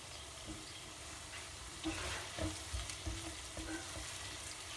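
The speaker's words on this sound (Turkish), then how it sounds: "Biraz da böyle soteleyeceğim" Red and green peppers, onion and garlic sautéing in olive oil, a soft continuous sizzle with a few quiet stirring bumps and scrapes toward the end.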